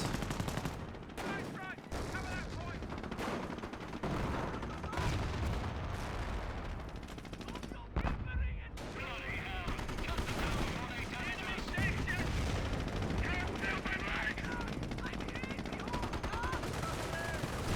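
Gunfire and grenades from a Company of Heroes 1 battle: rapid bursts of rifle and machine-gun fire crackle through the stretch, with heavier blasts mixed in and a busy wash of combat noise throughout.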